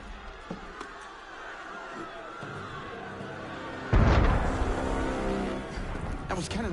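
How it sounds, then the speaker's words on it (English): In Assassin's Creed Unity, a heavy cannon blast booms out in the streets of revolutionary Paris, breaking through faint ambient noise and leaving a long rumbling tail, followed by a second sharp crack. "That was cannon fire."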